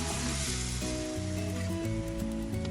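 A blended yogurt and gram flour mixture hits a hot pan for kadhi pakora, giving a steady, close sizzle that hisses throughout, with a tonal music bed underneath.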